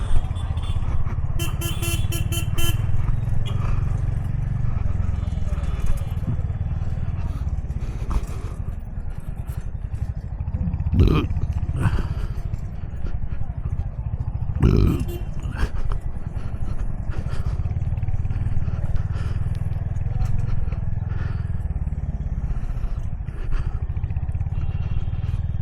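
Royal Enfield Hunter 350 motorcycle riding on the road, a steady low engine rumble with road noise, a couple of sharp clatters and distant horns, while a voice speaks over it.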